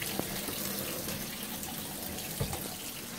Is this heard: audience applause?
no